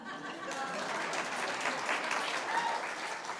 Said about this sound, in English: Can we get some applause for that one?